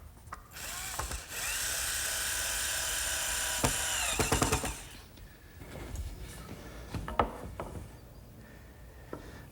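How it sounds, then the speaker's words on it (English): A power driver runs in short bursts fastening a wooden fence skirt board, a whirring drive of a few seconds followed by several brief clicks and knocks, close and fairly quiet. "now I'm going to fasten the skirt board right in place"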